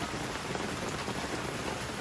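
Heavy rain pours steadily in a rural Thai mountain village, a dense, even hiss of drops drumming on surfaces with no breaks, moderately loud and alone without voices.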